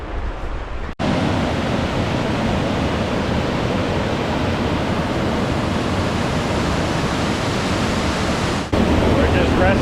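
A waterfall in Glacier National Park roars as a steady, dense rush of falling water, loud and unbroken, with a brief dip near the start and again near the end.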